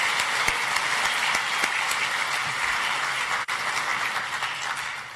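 A crowd at a business summit claps steadily in sustained applause, with the dense clatter of many hands holding at an even level for several seconds.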